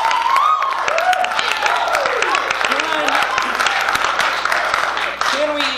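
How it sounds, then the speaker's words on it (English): A crowd claps and cheers in a steady wash of applause, with voices calling out over the clapping. "Give yourself a round of applause."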